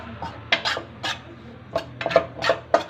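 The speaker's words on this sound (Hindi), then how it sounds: "और इसको अच्छे से हमने भून लेना है।" Gram flour (besan) for besan barfi is dry-roasted and stirred in a pan: scattered, fairly close scrapes and clinks of a spoon against metal with short pauses between strokes.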